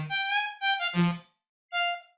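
Serum synth lead preset plays three short, bright tonal notes with a pause before the last, clear and alone with no voices.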